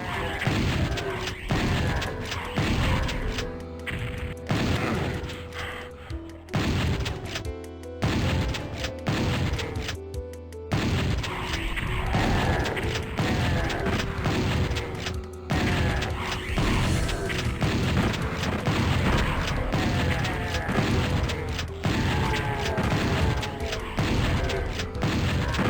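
Doom 2 shotgun fire on the Realm of Chaos MAP13 Bloodlands level: loud, punchy blasts repeat in a steady rhythm, broken by brief pauses and mechanical clanks among game noise.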